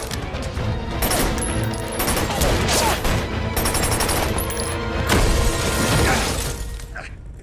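Rapid gunfire erupts from a rooftop beside a diner during a film shootout, loud and nearly continuous bursts with shattering impacts mixed in, filling the whole stretch before easing off at the end.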